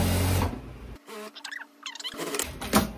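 Sewing machine set to a longer stitch length running over elastic on a viscose dress, a short mechanical stitching burst at the start, then a pause and softer handling noises close by.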